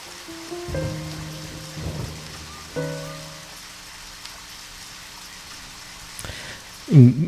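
Rain falling in the video game Deadly Premonition, a steady soft hiss running throughout, with a few brief game tones and low thuds, and a louder burst near the end.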